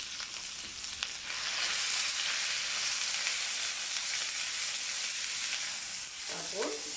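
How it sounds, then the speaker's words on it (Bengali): Meat fries in a pan with chili powder and spices, giving a loud, continuous close sizzle with occasional light stirring scrapes and crackles throughout. "মাংসগুলো দিয়ে ভালো করে মশলার সঙ্গে কষিয়ে নেব"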